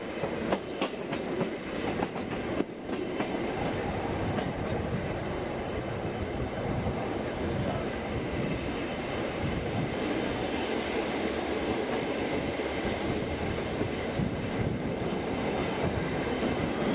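A Bernina Railway train runs along the street past the Madonna di Tirano pilgrimage church in Tirano like a tram, with a loud, continuous rolling rumble and wheel clatter near the listener throughout.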